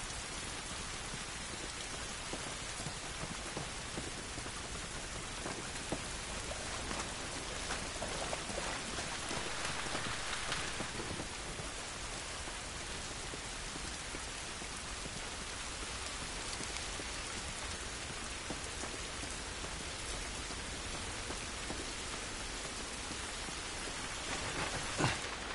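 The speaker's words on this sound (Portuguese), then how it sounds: "Esta chuva não nos vai ajudar nada." Steady, heavy rain pours in The Last of Us Part 1, a dense continuous hiss with faint rumbles of thunder, loud and unbroken for the whole stretch with no voices.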